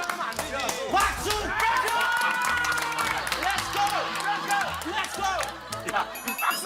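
Studio audience applause on a Korean variety show, with dense clapping and scattered whoops under overlapping voices and laughter, steady for several seconds.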